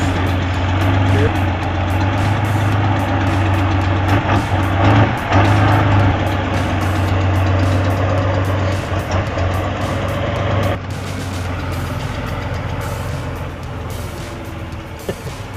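A Soviet K700 farm tractor with its engine up front runs with a steady, heavy diesel drone and a deep, constant hum, while a narrator talks over it.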